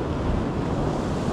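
Atlantic Ocean surf breaking along a rocky shore ledge in Fuerteventura, a steady broadband roar of waves close by, with wind buffeting the microphone throughout.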